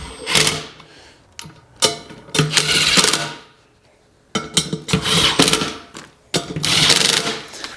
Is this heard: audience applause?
no